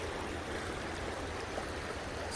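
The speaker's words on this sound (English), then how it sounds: "the Yakima River still got plenty of water in it." The Yakima River flows past the bank in late summer, a steady, uniform rush of moving water, faint and unbroken.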